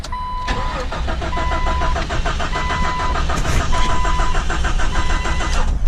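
A Jeep XJ engine cranks over and over after a newly installed part, a loud rhythmic starter churn with regular pulses close to the mic that goes on for several seconds without catching, with a steady whine under it.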